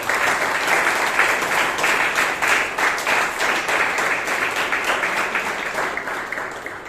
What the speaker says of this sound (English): Please give Amrit a big round of applause.